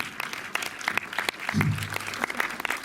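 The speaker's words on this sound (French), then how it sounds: "vous pouvez les applaudir aussi" Cinema audience at a French film preview applauding the distributors, scattered moderate clapping with brief talk in the middle.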